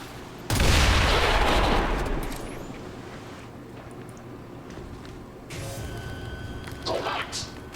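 Soldiers open fire in the XCOM 2: War of the Chosen strategy game, a loud burst of gunfire that rolls out over about two seconds and fades into a rumbling tail, with more scattered impacts near the end.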